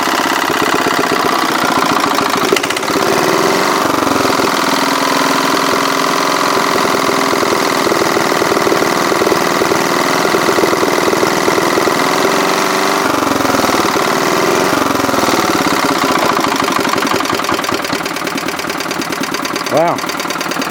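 An old, worn-out 1949 Clinton small engine runs continuously at a steady, loud, chugging idle, its rhythmic knocking unbroken for the whole stretch.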